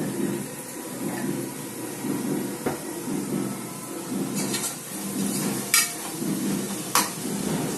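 Chicken biryani ingredients sauté in a pan with a steady, moderate frying hiss, while a spoon scrapes and stirs through them and knocks sharply against the pan a few times.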